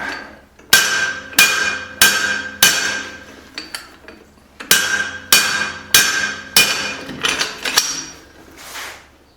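A blacksmith's hammer rings on hot steel while forging a small cross peen hammer head, about a dozen sharp, loud blows falling in two quick bursts of six with a short pause between, each strike leaving a bright metallic ring.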